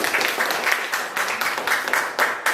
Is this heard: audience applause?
yes